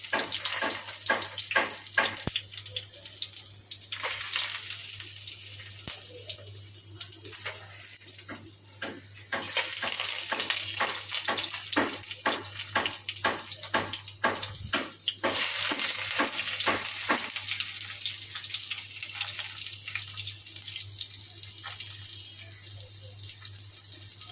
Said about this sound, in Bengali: আলুগুলোকে এক করে লাল লাল করে ভাজবো